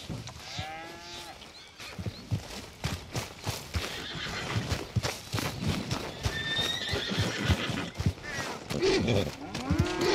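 A horse whinnies loudly near the start in Red Dead Redemption 2, with hoof clip-clops, cattle lowing and other farm animal noises filling a busy outdoor scene.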